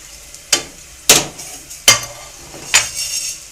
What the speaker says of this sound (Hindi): इन सबको ना हम सेंक लेंगे, इस पे फ्राई पैन में रोस्ट कर लेंगे।